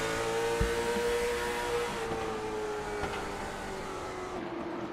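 Late model stock cars racing at Irwindale Speedway, a loud sustained engine roar with a steady pitch gradually sliding lower as cars run through a turn, no talk.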